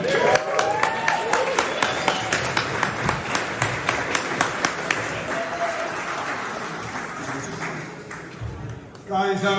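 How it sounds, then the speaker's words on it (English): An audience at a whisky tasting event in Edinburgh breaks into steady, close applause, many hands clapping in a dense patter that carries on for several seconds before fading out. "Folks, can I ask you to give a round of applause"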